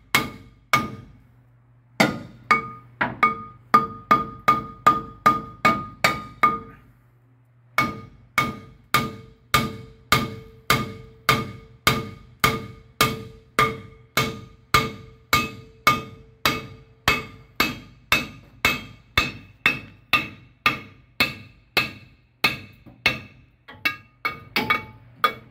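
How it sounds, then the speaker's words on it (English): A hammer strikes a car's rear brake drum again and again in a steady, ringing rhythm, each loud clang decaying before the next, continuing for a long stretch. "my brother's being a little bit of a wild man with the hammer"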